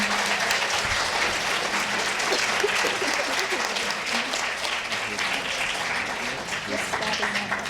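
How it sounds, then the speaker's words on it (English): An audience applauds graduates at a school event, dense continuous clapping from a large crowd that stays loud and even for the whole stretch. "let's give the grads another round of applause for being here"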